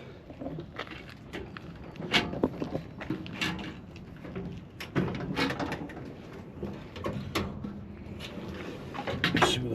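Drawers of a Harbor Freight six-drawer service cart sliding open and shut, giving a quiet series of irregular metal clunks and scrapes spread over several seconds.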